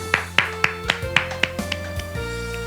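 A church congregation applauds during a Friday worship service, with a series of about ten sharp, separate claps in an uneven rhythm over a sustained low organ-like tone, close and moderately loud.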